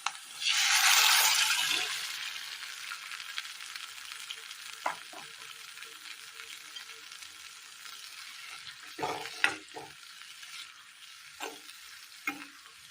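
Cooked chickpeas and koorka (Chinese potato) tipped into a hot pan for a Kerala curry, with a loud burst of sizzling frying at first that settles to a steady crackle, broken by a few sharp stirring scrapes and clinks near the end.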